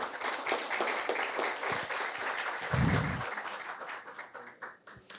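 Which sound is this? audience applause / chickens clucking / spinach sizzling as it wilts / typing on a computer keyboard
audience applause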